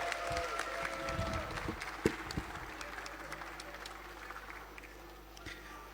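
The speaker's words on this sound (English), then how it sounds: "Please, a round of applause for them once again." Applause at a school speech and prize-giving day, steady moderate clapping from a gathered crowd heard at a distance, with a few sharper claps standing out and the sound slowly fading.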